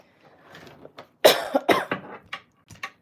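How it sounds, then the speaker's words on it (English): A person with a bad cough and postnasal drip lets out a burst of harsh, close coughs, one loud hack followed by several quicker, weaker ones. "excuse me, I have a terrible cough."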